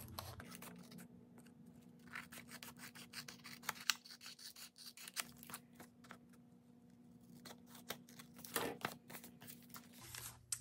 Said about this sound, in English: I'm just going to trim around the edge of my flap.